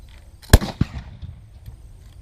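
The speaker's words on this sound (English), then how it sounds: "So, 2 shots out of the Brown Bess musket." A Brown Bess flintlock musket fires at a historic fort, a sharp loud crack followed a beat later by a second report, then fading outdoor quiet.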